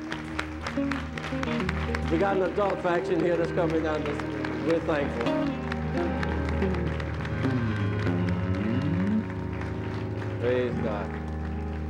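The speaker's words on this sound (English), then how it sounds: "Let's give them a hand clap of praise." A church congregation claps in praise, a dense crowd of hands mixed with organ or keyboard music, while someone speaks over the applause.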